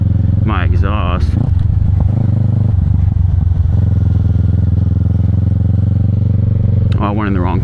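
A 2025 Kawasaki Ninja 650 motorcycle exhaust idles and rumbles steadily nearby, with brief clattering bursts at the start and end and no clear talk.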